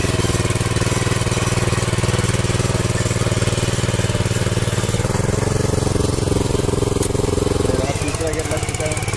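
Mini power tiller ploughing a field in gear, its small single-cylinder engine chugging loudly and steadily up close, the tone shifting slightly near the end as the load changes.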